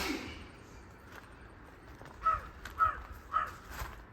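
A crow caws three or four times in quick succession, fairly distant, over a quiet background.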